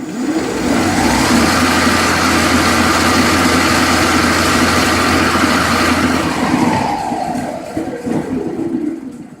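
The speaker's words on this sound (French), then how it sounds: "Mais ça suffit pour que le moteur tourne. On va mesurer la vitesse." A small brushed electric motor run through a brushed ESC at about 5 volts spins with a steady, close whirring drone for several seconds before easing off at the end.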